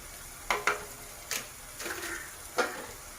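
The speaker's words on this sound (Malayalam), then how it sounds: "എല്ലാം കൂടി ഇട്ട് ഒന്ന് ഇളക്കി നന്നായിട്ട് ഇളക്കി കൊടുക്കാം നമുക്ക്" A spoon stirs chicken curry ingredients in a pan, giving a few distinct scraping knocks against the metal over soft background sizzle. The strokes come in an uneven rhythm, close and moderately loud.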